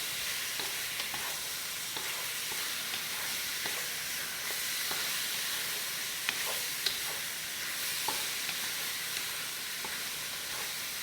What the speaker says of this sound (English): And then we have just the white part of some green onions. We're going to stir fry those.